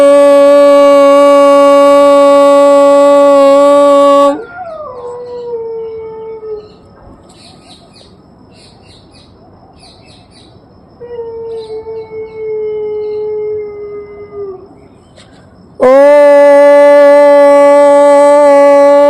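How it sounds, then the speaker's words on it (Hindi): A dog on a rooftop in the morning lets out a long, loud, wavering howl that rises and falls, stopping midway, while in the quieter gap a fainter howl and distant birdsong can be heard. "देखिए इस प्यारे से डॉगी को, ये ओमकार का जाप करता है सुबह सुबह अपनी छत पर आकर"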